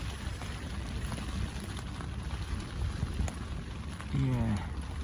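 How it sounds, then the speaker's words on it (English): Steady rain hisses and patters continuously during a winter carp fishing session, with a low rumbling background and a brief whirring sound near the end. "Well guys, it's raining."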